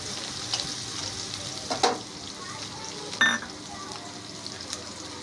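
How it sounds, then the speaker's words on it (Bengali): Crushed garlic and chopped onion frying in hot oil in a pan, giving a steady soft sizzle with a couple of brief stirring knocks, near and fairly quiet, with no one talking. "তেল গরম হওয়ার পরে তার মধ্যে একটু রসুন থেতো করা, পেঁয়াজ কুচি সব দিয়ে দিলাম, দিয়ে একটু ভেজে নিচ্ছি।"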